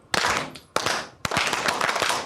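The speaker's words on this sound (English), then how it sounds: "Can we clap that rhythm?" A primary music class clapping a rhythm together, three sharp group claps sounding in sequence, each followed by a ringing, reverberant room decay, close and loud.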